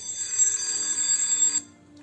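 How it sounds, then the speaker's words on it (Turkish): An electric school bell rings continuously for about a second and a half, bright and metallic, then cuts off, leaving a faint hum. "Ah zil çalıyor."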